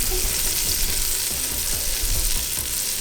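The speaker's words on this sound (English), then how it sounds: "I'm going to put a half stick of butter, 4 tablespoons. I'm just going to let this melt a little bit" A half stick of butter, about four tablespoons, melts in a pot with a loud, continuous close-up sizzle and frying crackle, steady throughout with no talking.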